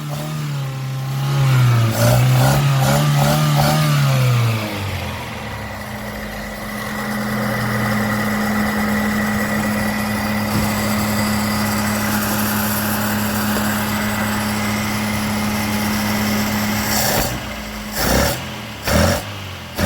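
A Datsun 120Y's L18 engine with a Weber 45 carburettor idles with a steady, even hum that wavers briefly at the start, with a few sharp bursts of noise near the end.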